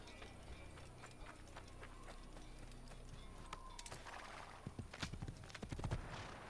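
Horse hooves clip-clopping in the video game Assassin's Creed, faint rhythmic hoofbeats that grow louder and denser toward the end, with a hint of whinnying over a low game ambience.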